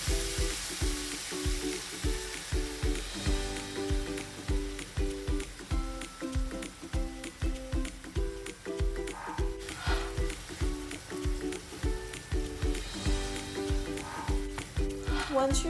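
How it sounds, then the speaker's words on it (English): Chicken sizzles loudly in a pan of honey butter sauce, stirred and tossed in a steady repeating rhythm, with a continuous frying hiss throughout. "Continue to stir and toss your chicken in your honey sauce"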